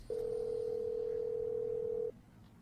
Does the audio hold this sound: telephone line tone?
yes